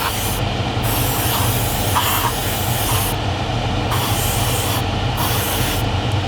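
Sanding over the surface of a plastic Revell 1/48 Rafale M scale model kit, a continuous close rasping rub with a few slightly louder passes, with no talking over it.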